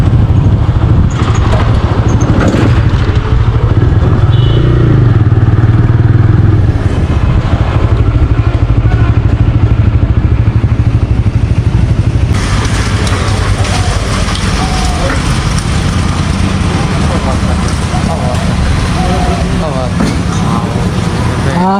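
A motorcycle running low on fuel drones steadily under a loud rush of wind noise while being ridden, with people talking over it at times.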